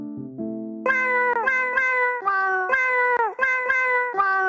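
A pet cat meows repeatedly and loudly up close, a run of about eight rising and falling meows in quick succession after a brief lower-pitched trill.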